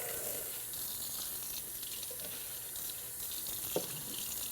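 Water runs steadily from a tap into a sink during a countertop epoxy repair, a soft continuous splashing hiss with no talking and a small clink near the end.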